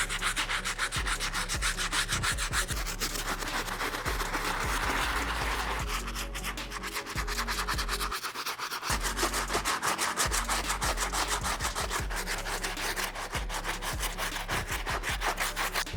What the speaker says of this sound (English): I highly advise you guys to use a stiff bristle brush on those sections as well.